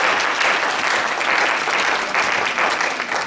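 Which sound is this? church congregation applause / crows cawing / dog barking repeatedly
church congregation applause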